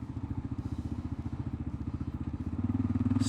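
A Kawasaki KLR 650 single-cylinder motorcycle fitted with a new exhaust header thumps with a rapid, even pulse, heard close and fairly faint, the note rising slightly as the engine revs up near the end.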